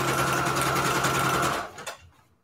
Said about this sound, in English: I don't know what's wrong with my sewing machine, though